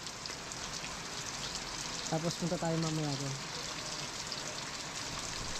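Heavy rain pours steadily outdoors as a dense, even hiss throughout, with a voice speaking briefly over it partway through.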